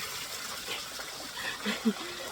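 Steady broadband rush of a forest waterfall, a constant wash of falling water heard fairly close, with a few faint voices or brief sounds rising over it near the end.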